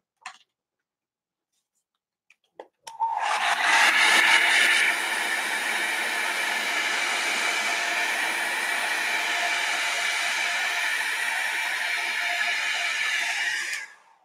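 A hair dryer blows on alcohol ink. A few sharp clicks come first, then the dryer starts up and runs loud, steady and close for about eleven seconds before cutting off.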